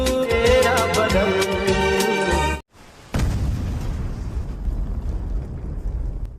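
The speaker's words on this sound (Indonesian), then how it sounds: "Sebuah pabrik meledak di kota Vizag." A factory explosion in an Indian action film: loud music cuts off into a brief silence, then a sudden powerful boom gives way to a long roaring, rumbling blast that lasts to the end.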